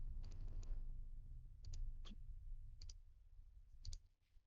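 Computer mouse clicking while formatting text in a page editor: a handful of light, quiet clicks, some in quick pairs, spaced unevenly over a low steady hum.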